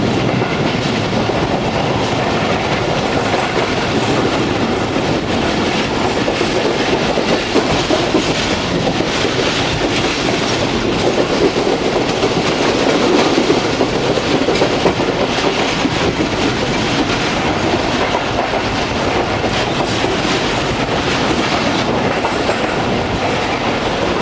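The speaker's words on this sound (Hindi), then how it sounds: "हमारी ट्रेन खामोशी को तोड़ते हुए गुजर रही है बनोगल से" Tezgam passenger train racing through Banogal at speed, a steady, loud, continuous rumble of wheels and carriages with faint rhythmic clatter, no voices.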